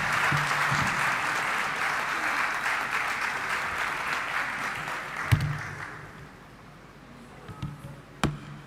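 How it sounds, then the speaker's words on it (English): An audience claps together to welcome the vice-chancellor to the podium at an academic opening ceremony. The dense, sustained applause fills the hall, then thins out toward the end, leaving a few scattered, sharp claps. "A big round of applause."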